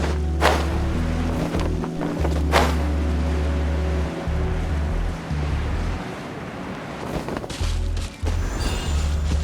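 Surfing through ocean waves in Genshin Impact, with loud continuous surf and rushing water, periodic splashes or board whooshes, and low game music underneath, no talking.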